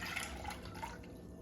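Water poured from a container into a cooking pot, a steady close pour with light splashing and dripping running throughout, alone with no talk.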